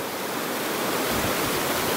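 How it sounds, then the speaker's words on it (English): A fast-moving, cold stream near Santa Barbara campgrounds rushes in a constant, loud broadband roar, close by and alone without talk. "This water's probably drinkable here. It's moving fast."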